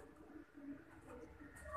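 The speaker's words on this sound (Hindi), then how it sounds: "इस कबूतर को मैंने नाम दिया है लाल टैन का।" A pigeon with reddish plumage coos softly, a low, faint burbling call heard close by in a quiet setting.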